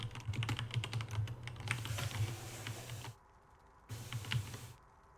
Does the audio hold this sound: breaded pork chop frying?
no